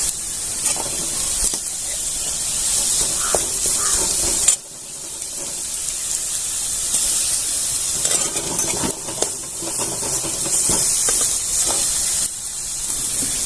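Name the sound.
red chilli, ginger, garlic and coriander sautéing in a pan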